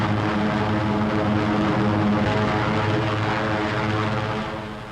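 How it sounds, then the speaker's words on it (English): B-17 Flying Fortress heavy bombers with escort aircraft in flight over wartime Europe in 1943, a loud, steady multi-engine propeller drone with layered low harmonics that holds throughout and eases slightly at the end. "And here are the heavies, giant flying fortresses that drop their tons of high explosives on pinpoint targets."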